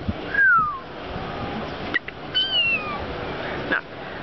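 A cat meows a few times at a resort, drawn-out cries spaced across the moment, fairly close against faint outdoor background noise.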